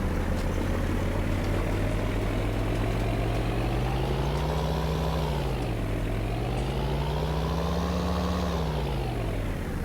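A modded tractor in a farming video game on the South Island Farm challenge map drones loudly and continuously, its engine pitch sagging and rising in slow waves with no talk over it.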